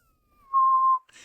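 A single steady whistled tone held for about half a second, clean and close, rising gently into a sustained pitch before stopping, with a brief soft rustle afterward.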